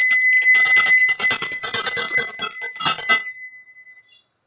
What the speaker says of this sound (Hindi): हम घंटी बजा लेते हैं।